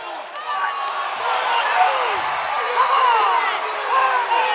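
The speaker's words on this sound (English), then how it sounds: "And so the crowd getting into it here." A crowd in a gym at a boys' high school basketball final cheers and whoops steadily throughout, with scattered shouts rising and falling over a loud, dense roar.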